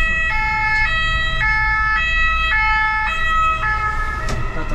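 A Paris ambulance siren wails in a steady two-tone alternation on a city street, loud and near, with faint traffic rumble underneath.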